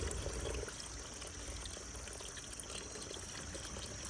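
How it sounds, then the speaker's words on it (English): Water pouring into a deer's water dish outdoors, heard as a faint, steady splashing trickle that lasts throughout the clip with no talk over it. "Let's put more water."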